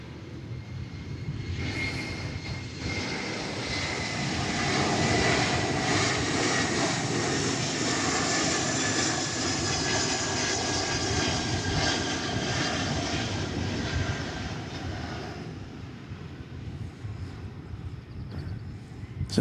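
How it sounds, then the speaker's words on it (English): An Airbus A321 jet arriving at Dallas Fort Worth Airport at dawn swells from a distant whine into a full roar that peaks mid-pass, then gradually fades as it moves off. "It's an Airbus A321 arriving from"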